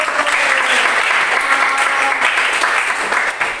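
Audience applause after a lecture-style talk, a dense, steady wash of many hands clapping at close range, filling the whole stretch with no pauses.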